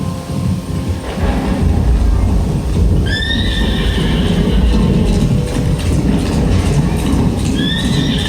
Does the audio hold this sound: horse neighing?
yes